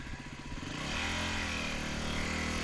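A motorcycle engine roars as the throttle is twisted open, the pitch climbing and then holding at a loud, steady drone, close to the rider with no talking.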